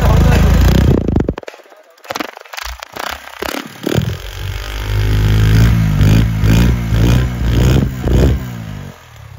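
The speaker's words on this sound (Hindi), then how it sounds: "अब हम बाइक को थोड़ा रेस देते हैं।" A Honda CD70-type motorcycle engine is revved after carburetor mixture adjustment, loud and close, dipping and then climbing to a steady high idle with some clatter.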